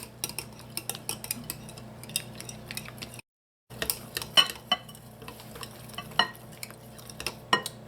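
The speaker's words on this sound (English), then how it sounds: "now you're going to add in 1/4 of your dry ingredients and mix this in" Dry ingredients being mixed into coconut roll dough in a bowl, irregular clinks and scrapes of a utensil against the bowl with a short silent gap midway; no one talks.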